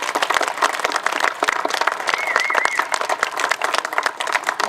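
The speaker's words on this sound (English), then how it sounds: "So really give them a round of applause." A crowd claps in dense, steady applause throughout at a skate plaza opening, fairly loud and close, with a faint whistle cutting through near the middle.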